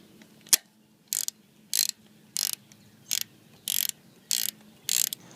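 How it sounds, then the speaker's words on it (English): A 17 mm socket ratchet tightens the oil drain plug on a 2002 Honda Shadow Sabre motorcycle, eight crisp ratcheting clicks in evenly spaced bursts, close and clear in a quiet space. "we can go ahead and use our 17 millimeter socket and get it the rest of the way tight"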